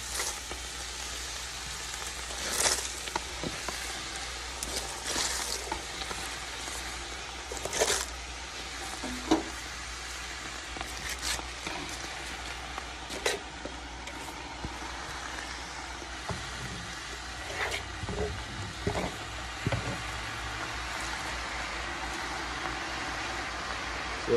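Shredded cabbage sizzles and crackles steadily in a hot pan on the stove, a continuous frying hiss with scattered pops and occasional stirring clatter, close and fairly quiet with no talking.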